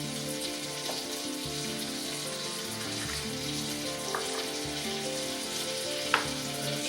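Boneless chicken breasts fry undisturbed in a pan for coq au vin, giving a steady, close sizzle with a few faint pops and a light clink near the end.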